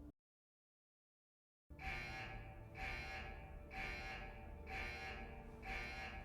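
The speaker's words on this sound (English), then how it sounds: "It's the alarm." A ship's alarm in the sci-fi series The Expanse blares in a steady, pulsing rhythm after a moment of silence, loud, with five repeated buzzing cycles and no talking.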